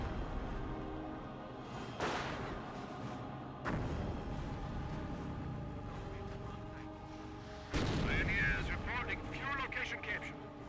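In a Company of Heroes match, mortar fire lands as three separate heavy thumps spaced several seconds apart, each a broad crack rising out of continuous battlefield rumble and distant combat noise.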